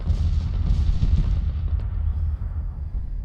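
Artillery fire in the Civil War strategy game Grand Tactician, a dense rolling barrage of booming cannon shots with heavy low rumble, loud and continuous, fading slightly toward the end.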